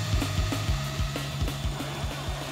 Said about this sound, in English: now we have a maxed out drill